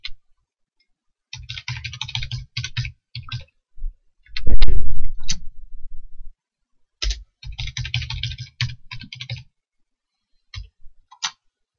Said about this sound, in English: I will just type these in quickly